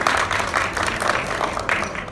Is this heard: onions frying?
no